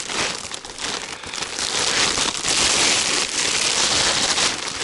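Dense, continuous crinkling of a plastic packaging bag as a Snegir 4T Long winter tent is unpacked, close and loud, with busy rustling that swells and persists throughout.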